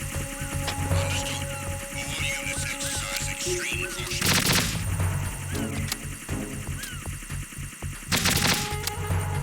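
Video game AK rifle gunfire in Metal Gear Solid 2: dense bursts of automatic shots with heavy booming impacts, loud and continuous throughout, with louder crashing blasts surging in twice.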